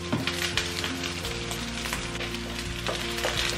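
An egg fries in a pan for kimchi rice, giving a steady, close sizzle with stirring scrapes and a low, constant hum underneath.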